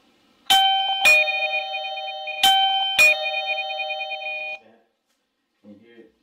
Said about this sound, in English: Now I'm hoping the chime will work,